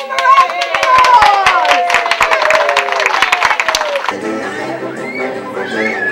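A beach crowd at a Ms Bits N Bobs show claps loudly and steadily for about four seconds, then the applause drops away to quieter background sound and faint voices.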